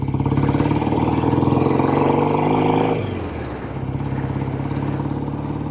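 A 1967 BSA Spitfire Special MkIII motorcycle engine runs with a steady, throaty rumble that drops in pitch and load partway through, then carries on more smoothly.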